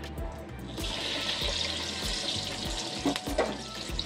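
Potato cheese balls coated in bread crumbs fry in oil over medium-low heat, giving a steady close sizzle and bubbling hiss that runs continuously for the whole stretch, with a few soft knocks underneath and no talking.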